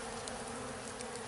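A dense, steady buzzing swarm of honeybees fighting off robber bees at the entrance of a beehive, heard up close and continuous without pause.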